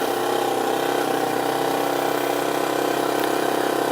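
A sport motorcycle being ridden in second gear at around 15 on a practice lap, its engine holding a steady, continuous mid-pitched drone, close and fairly loud throughout with no talk.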